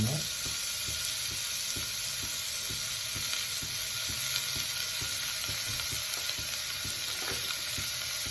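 Steady oil sizzle of ginger garlic paste frying in a pan, with regular soft scraping strokes of a spoon stirring throughout, no voices.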